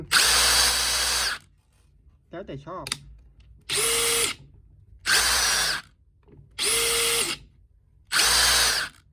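A DeWalt DCF850 cordless impact driver runs in four loud, even bursts of high whirring, each about a second long, with a brief spoken phrase in between.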